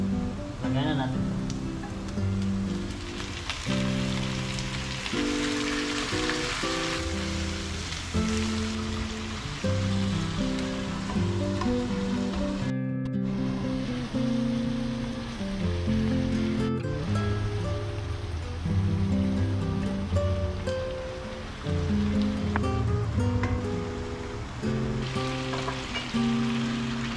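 Food hitting a little hot cooking oil, producing a steady, dense sizzle that runs throughout with music playing alongside and under it.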